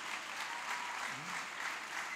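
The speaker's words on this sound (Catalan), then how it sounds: "Un aplaudiment, per favor." Audience at a festive evening event at a sanctuary applauds, a steady, dense round of clapping with no pauses.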